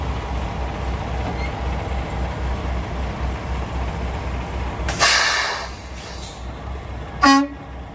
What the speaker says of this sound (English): set the brakes, shift the truck to neutral, and then honk your air horn.